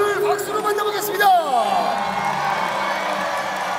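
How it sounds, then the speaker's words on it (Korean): A crowd cheers at a baseball postgame interview with the winning pitcher, with a voice briefly at the start, then a long sliding whoop and a sustained roar. "자, 오늘 이길 수원 선수 서준원 선수를 박수로 만나보겠습니다."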